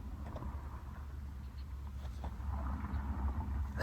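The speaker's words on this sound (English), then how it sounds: "And I hear a car on the road right now." A car on a rural road heard from a public-land turkey hunting spot, a low steady rumble of tires and engine at a moderate distance, growing a little louder toward the end.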